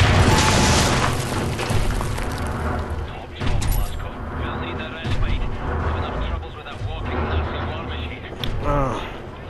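A grenade blast in the shooter Wolfenstein: The New Order, a loud booming burst at the start that sits among rumbling gunfire and explosions, with someone talking throughout.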